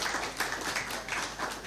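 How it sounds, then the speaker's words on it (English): A crowd at a live talk show event applauds to welcome a guest speaker onto the stage, a short, steady, fairly faint wash of many hands clapping at once with no voices heard. "let's welcome Shubh Vilas Prabhuji with a huge round of applause"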